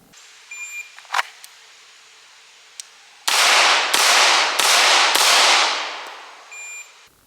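Four handgun shots fired from the holster during a low-light drill, loud sharp cracks evenly spaced about half a second apart, each with a short ringing tail, preceded by faint clicks and handling noise.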